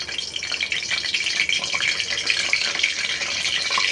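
Fresh small curry leaves hitting hot oil for a Tamil paal sura fish curry, giving a steady, bright crackling sizzle that holds close and loud throughout.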